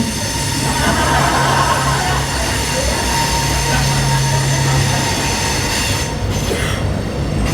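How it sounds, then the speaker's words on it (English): An interstate train rumbles past close by in Davenport, Iowa, steady and loud, wheels clattering with a faint metallic squeal, fading slightly at the end. "Interstate train, not CP."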